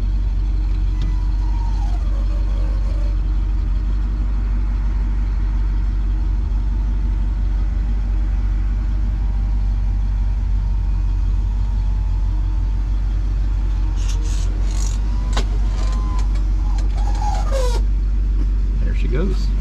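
A 1968 Oldsmobile 442 engine running steadily, a deep constant rumble close by throughout, with someone talking over it.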